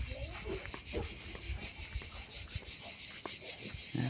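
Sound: cicadas singing loudly

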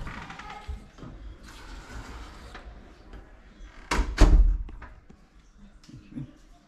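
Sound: hotel balcony doors opening and closing

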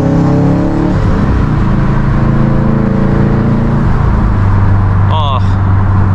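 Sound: turbocharged E85 Subaru STI engine with internal wastegate

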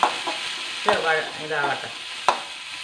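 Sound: onions sautéing in a pan

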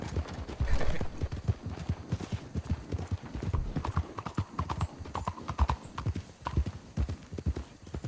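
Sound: horse hooves clip-clopping, from a video game

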